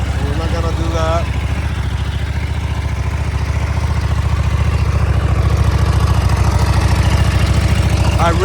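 A 2009 Buell 1125R motorcycle engine idles low and steady while warming up, a continuous rhythmic putter at close range, while someone talks over it.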